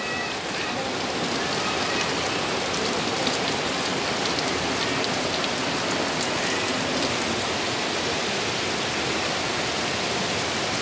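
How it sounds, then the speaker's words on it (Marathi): Heavy first monsoon rain in the Konkan pours off tiled-roof houses, a dense, steady hiss of water falling and splashing, loud and unbroken throughout. "असं आपल्या कौलारू घरांवरून पडणारं हे पाणी"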